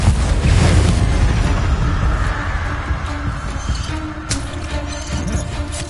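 A Confringo blasting curse detonates in Hogwarts Legacy, a loud booming explosion up front that decays into a rumbling roar, with a sharper burst later amid continuing low game rumble and clatter.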